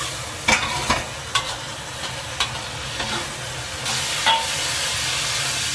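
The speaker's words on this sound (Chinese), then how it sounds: "直接下入蒸软的茄子， 保持小火翻炒，让酱汁均匀包裹住每一块茄子" Steamed eggplant stir-fried in sauce in a wok over low heat, a steady close sizzle with periodic scraping and clacking as the spatula turns the pieces.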